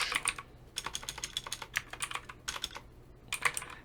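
Bursts of quick keystrokes on a computer keyboard, uneven and hesitant, close and fairly quiet, with short pauses between runs of typing.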